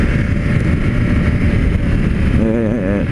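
A BMW F 750 GS Premium motorcycle cruises in third gear at low speed, its engine a steady loud drone heard from the rider's position and heavily buffeted by wind noise.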